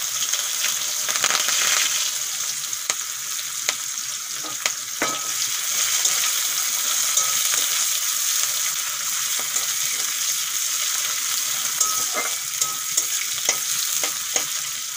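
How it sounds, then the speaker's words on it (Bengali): Onions, dried red chillies, cumin seeds and curry leaves fry in hot oil for an egg and masoor dal dish, giving a steady, fairly loud sizzle with occasional stirring clicks and spatters throughout and no voices. "পেঁয়াজগুলো খুব সুন্দর করে ভেজে নেব।"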